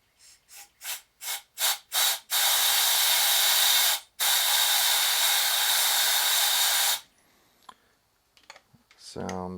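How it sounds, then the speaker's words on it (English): Compressed air blasting through a threaded hole on a Honda ATC 110: several short rising bursts, then two long loud steady hissing blows, then quieter clicks and handling noises at the end. "I'm going to blow through this with compressed air."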